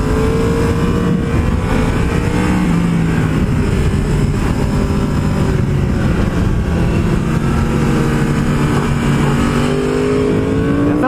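A Yamaha R1M sport motorcycle is ridden hard on a mountain road, with a loud, sustained engine note that rises and falls through the revs alongside steady wind rush.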